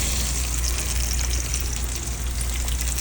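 Floured, seasoned short ribs brown in hot oil in a pan, giving a steady, soft sizzle and crackle. The frying hiss runs continuously at low volume with no voices.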